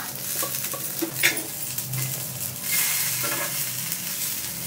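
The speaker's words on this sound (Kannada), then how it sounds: "ಎಲ್ಲ ತಿರುವಾಕ್ಬೇಕು ಪಟ ಕಟ ಕಟ ಅಂತ." A utensil stirs banana dry fry in a hot pan, scraping and turning the pieces over a steady oil sizzle, with occasional metallic knocks against the pan, close and fairly loud.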